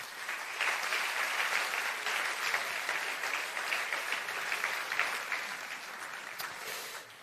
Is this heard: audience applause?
yes